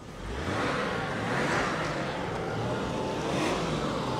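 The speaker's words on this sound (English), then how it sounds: "rev the engine" A 1988 Jaguar XJ6 Sovereign engine revs with a smooth, steady roar that swells and eases a couple of times, heard up close and alone for a few seconds.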